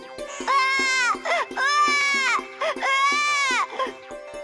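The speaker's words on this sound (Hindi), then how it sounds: "फिर अचानक उस तरबूज के अंदर से बच्चों के रोने की आवाज आने लगी।" A baby cries from inside a watermelon in a cartoon story, three long, loud wailing cries with short sobbing catches between them, over a faint steady ticking beat.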